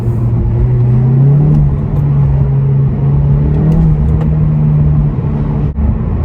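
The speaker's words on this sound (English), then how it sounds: "tiny bit of the DSG noises and things like that" Seat Cupra 290 with GPF and a resonator-delete exhaust, a steady low engine drone and rumble on overrun through a DSG downshift, heard from inside the car with a brief dip near the end.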